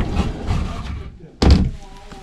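A sliding glass barn door in the rear office of a 2023 Fleetwood Frontier GTX 37RT RV shuts with a single solid thud partway through, after a stretch of quieter background sound.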